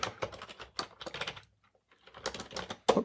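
Quick clattering keystrokes on a computer keyboard as a shell command is entered, two close bursts of typing separated by a short pause, with no voices.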